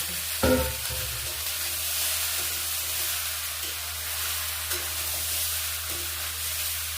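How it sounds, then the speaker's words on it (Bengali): Spiced vegetables with egg, potato and cauliflower stirred in a hot frying pan, one sharp scrape at the start and then a continuous close sizzle and hiss, with faint spoon scrapes now and then. "দেখো ভালো করে মশলার সবজির সঙ্গে সব মিশিয়ে দিয়েছি।"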